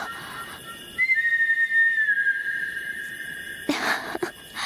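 A single long, bright whistle blown by a person, held steadily for about two seconds and gliding slightly downward, loud and close, followed by a brief burst of noise.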